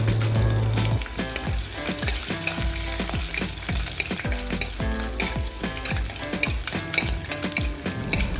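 Ginger, garlic and curry leaves fry and sizzle in a pan for a jackfruit-seed masala curry, with a steady loud crackle and repeated scraping stirs throughout, no voices.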